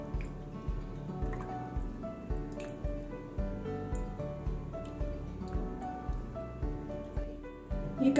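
Fish pieces are rubbed by hand with a red food colour marinade, giving soft, wet squishing and dabbing sounds in a steady repeated rhythm, close and fairly quiet.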